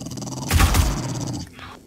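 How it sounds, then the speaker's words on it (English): A zombie Doberman in the game 7 Days to Die lets out a loud, close, rough growl lasting under a second, then fades into low background rumble. "Zombie Doberman"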